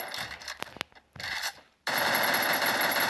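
Gunfire in the mobile shooter Free Fire: two sharp single shots early on, a short pause, then a loud, sustained burst of automatic fire to the end.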